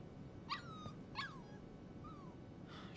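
A puppy in the Life Is Strange 2 video game whimpers in several short, high, sliding whines spaced apart, faint over a steady background hiss, with no speech.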